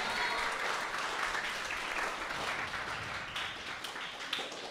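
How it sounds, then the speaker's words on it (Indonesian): A school assembly audience in Jakarta applauds steadily, a dense wash of clapping at moderate distance that holds for several seconds and thins slightly toward the end. "Wow, tepuk tangan dong."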